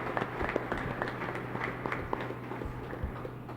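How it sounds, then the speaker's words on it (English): A crowd applauds to welcome Philippine President Ferdinand Romualdez Marcos Jr. at an event in Davao, producing steady, dense clapping that stays fairly distant and even throughout, with no standout voices. "please welcome with a round of applause the President of the Republic of the Philippines, Ferdinand Romualdez Marcos Jr."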